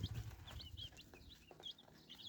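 Young chickens chirping and peeping softly in a coop, a few short high calls scattered over low rustling and handling noise close by.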